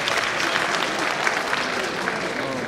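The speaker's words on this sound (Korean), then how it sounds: "다시 한번 뜨거운 박수 부탁드리겠습니다." Audience applause at a Seongnam city Ms./Mr. pageant opening, a steady, dense wash of clapping holding at even loudness throughout, with faint crowd murmur and a voice or two mixed underneath.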